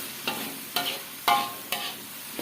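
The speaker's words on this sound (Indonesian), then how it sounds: "kita aduk lagi sampai dia menyusut ya guys" Mushroom broth powder being stirred into risole filling in a frying pan, with four distinct scraping strokes of a spoon against the pan over a soft, steady sizzle.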